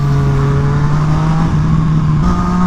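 A new race motorcycle's engine drones loud and close while being ridden, holding a steady high-pitched tone with a brief shift partway through.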